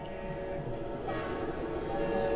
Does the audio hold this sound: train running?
yes